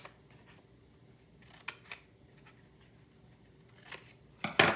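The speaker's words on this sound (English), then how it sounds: "the other thing you can do is you can cut some flaps on the back" Scissors snip through paper to cut flaps into the tail of a folded paper airplane, a few short crisp cuts in a quiet room, with a louder burst of cutting near the end.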